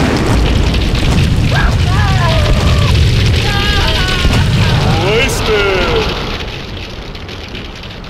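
Grenade explosions in the video game GTA2 form a heavy, continuous rumble of booms at close range, with tonal, voice-like sounds drifting over the blasts.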